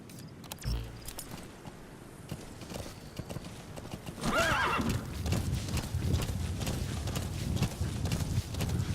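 A horse in the Metal Gear Solid V video game clops along in a steady hoof rhythm, then gives a loud neigh partway through before its hooves continue over a denser background rumble.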